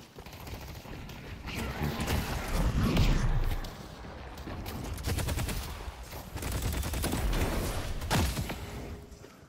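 Rapid bursts of gunfire from Infernus in a video game, crackling in several clustered volleys with brief lulls between them, fairly loud and close, with game effects layered underneath.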